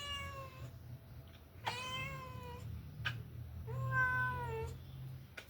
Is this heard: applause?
no